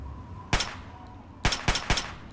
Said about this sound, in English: Getting attacked by a random guy with a sniper rifle.